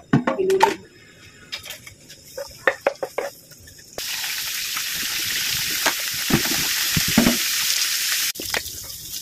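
Squid dropped into hot cooking oil in a home kitchen: scattered knocks and clatter of utensils first, then a sudden loud continuous frying sizzle that holds for several seconds before cutting off, with a few more clinks at the end.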